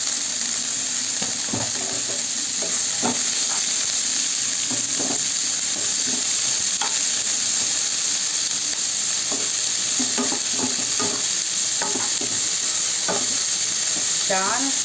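Onions, green chillies and curry leaves fry in a pan for an egg tomato curry, a steady loud sizzle punctuated by repeated scraping and stirring knocks of a utensil against the pan.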